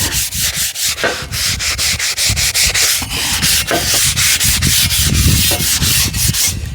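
Rhythmic hand sanding with a sponge on rusty horse stall fronts, quick repeated scratchy strokes back and forth, close and loud, continuing steadily throughout.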